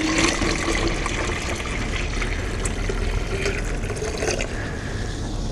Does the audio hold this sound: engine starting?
no